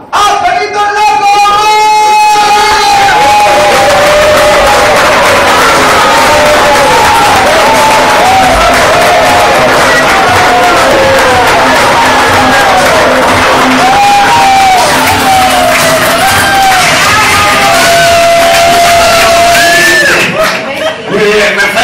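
Audience in a comedy show applauds and cheers as comedian Angelito el Largo is introduced, a steady dense wash of clapping with whoops and shouts rising and falling, with voices talking over it throughout.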